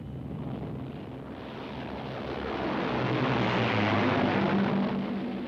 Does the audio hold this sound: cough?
no